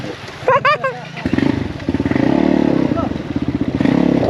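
A Crossfire motorcycle revs hard while attempting an uphill enduro climb, its engine pulsing loud and close in rapid throbbing bursts after a short shout, with some clatter from the rough ground.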